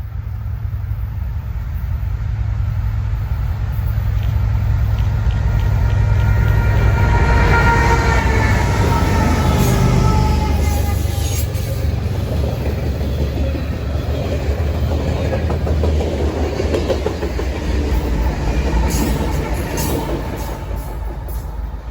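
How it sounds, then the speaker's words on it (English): Southbound potash freight train B790 rolls past in a loud, steady rumble that swells toward the middle and stays heavy throughout, with no voices. "Next is southbound train B790,"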